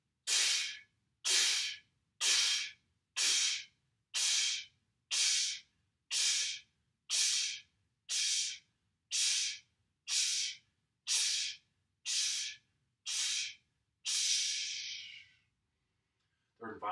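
Rapid rhythmic breathing during a yoga breathing exercise: about fourteen forceful, evenly spaced breath bursts roughly one per second, close and clear, ending with a longer breath and then silence.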